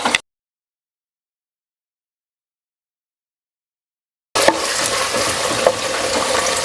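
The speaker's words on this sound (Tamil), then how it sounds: "இப்போ ஒரு பக்கம் இது வதங்கிட்டே இருக்கட்டும்." Onions with green and dried red chilies sauté in a pan for mutton kuzhambu, a steady close sizzle that cuts in after a stretch of silence, following a brief burst at the very start.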